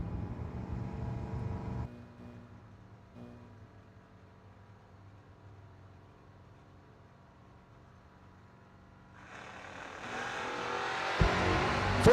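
Drag race cars at the New Year Nationals, including a small-tire S10, roar loudly at first, then a quieter steady engine drone holds before the noise swells again into a loud, rising roar near the end.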